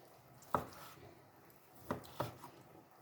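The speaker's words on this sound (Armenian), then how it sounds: "Հիմա էլ պետք է կտրեմ միսը, տավարի խաշած միսը" Knife slicing through boiled beef, giving three short distinct cuts spaced apart, close and fairly quiet with no talking.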